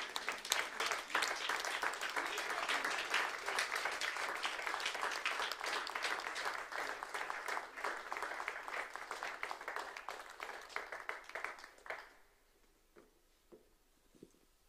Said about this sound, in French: en lui donnant aussi des acclamations